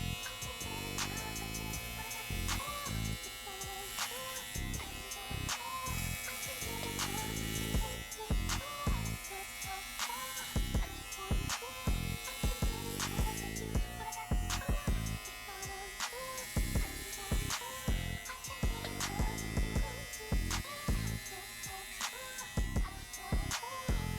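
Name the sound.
electric hair clippers shaving a head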